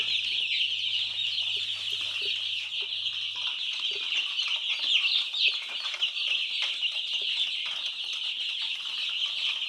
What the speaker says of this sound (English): But yeah, chicks are doing well.